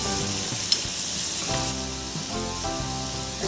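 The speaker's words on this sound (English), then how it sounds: "Let's heat our pan. Add 1 tablespoon of solid butter." A tablespoon of solid butter melts in a heated pan for Portuguese caldo verde soup, giving a steady close sizzle and frying crackle throughout with no talk.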